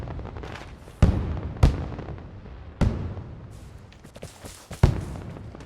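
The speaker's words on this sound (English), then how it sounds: "how many fireworks does this guy have?" Fireworks in the online shooter Vigor burst in four loud, sharp booms at uneven intervals, each trailing off in a rumbling decay over a noisy outdoor background.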